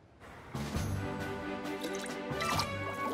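Cartoon bubble sound effect in an animated superhero comedy, a run of wet, bubbly popping and gurgling tones that keeps on at steady loudness for about three seconds.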